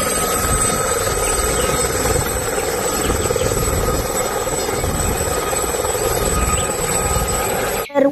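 A toy helicopter's rotor whirs steadily and continuously up close, a buzzing mechanical drone that ends with a short clunk.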